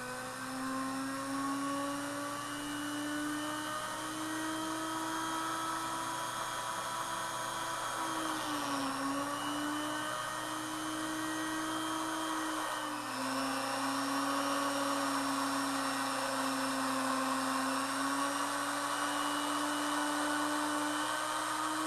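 Homemade Sas-zoom electric motor running on a trouble-light ballast in an electric motor drag race, a continuous high whine that dips and recovers pitch slightly mid-run, steady and fairly loud throughout.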